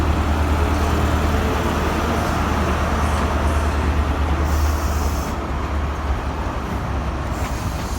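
ScotRail Class 43 HST train at Edinburgh Waverley station, a steady loud rumble and hum of the diesel units running continuously, close and unbroken, easing slightly toward the end.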